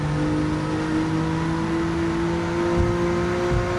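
A Toyota 86 fitted with an Alfa Romeo V6 swap hums at steady, sustained revs in Gran Turismo 7 while the throttle is held to balance the car, a loud, continuous engine drone with little change in pitch.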